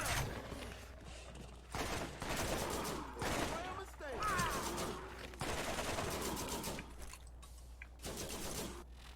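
Rapid gunfire from a deployed turret in the Borderlands video game, sounding as dense repeated bursts over a bright noisy game mix, with someone talking over parts of it.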